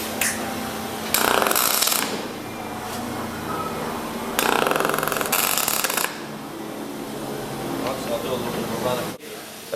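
A Telwin 225 MiG welder pulse brazing crackles with a steady hiss, broken by two louder, harsher bursts of sputtering lasting about a second each.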